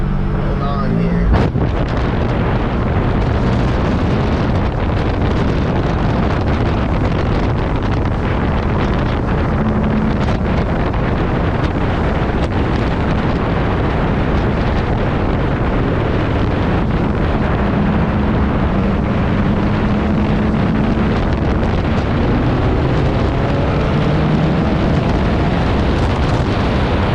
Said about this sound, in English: We're gonna get a little exhaust note here.